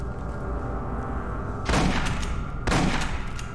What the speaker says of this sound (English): I was shooting the oxygen tank to see if it did anything interesting.